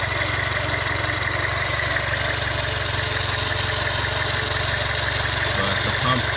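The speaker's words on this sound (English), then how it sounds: "you can tell the rest of the motor actually sounds pretty good" A 1999 Toyota Corolla 1.8 engine idles steadily up close, a continuous low rumbling drone with even mechanical chatter and a faint knock, holding unchanged throughout with no talking.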